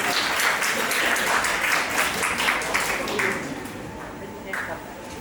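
An audience at a school Vedic speech competition claps loudly for a while in a dense, even patter, then the applause thins out and fades toward the end.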